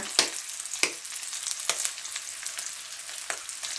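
Three eggs stir-fried with squid in a hot pan hiss and crackle loudly, with several sharp spatula scrapes and clacks breaking through the dense sizzle at irregular intervals.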